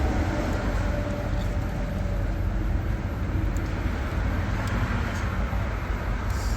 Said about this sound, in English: we're going to temporarily shoot ground to it, and blower motor came on